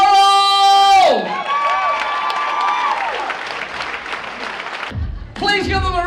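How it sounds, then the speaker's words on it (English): Applause and cheering rise from a crowd in a hall at a hospice dance event after a tonal musical flourish, sustaining for several seconds before more music returns. "Please give them a round of applause."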